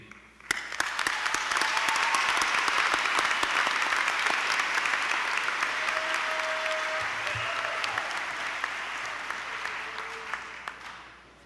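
An audience at an honors convocation applauds steadily, a dense wash of many hands clapping that holds for about ten seconds before it tapers off.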